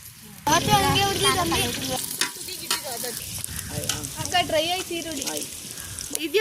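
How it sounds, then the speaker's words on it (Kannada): Tomato masala frying in a pan, a bubbling sizzle with stirring scrapes, close by, while a person talks over it for most of the clip. "ನೋಡಿ ಇದನ್ನು ಚೆನ್ನಾಗಿ ಫ್ರೈ ಮಾಡ್ಕೊಬೇಕು ಒಂದು 2 ಮಿನಿಟ್ಸ್"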